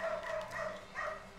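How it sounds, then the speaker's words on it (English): A dog barking indoors, heard faintly in the background: a few muffled, quick barks in a short burst, the second coming about a second after the first. "My dog is barking super loud"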